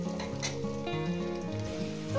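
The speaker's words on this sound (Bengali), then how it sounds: "লবণটাকে দিয়ে আমি আলুগুলো সুন্দর করে ভেজে নেব।" Salted potatoes fry in a pan, giving a soft steady sizzle at close range under a loud, tonal background hum that lasts throughout.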